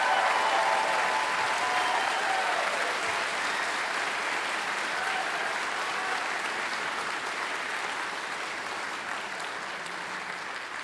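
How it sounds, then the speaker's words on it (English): A large crowd at a college commencement applauds the graduating class steadily, with sustained, dense clapping that holds at an even level for about eleven seconds before easing slightly. "please join me in a round of applause for the graduating class of 2025"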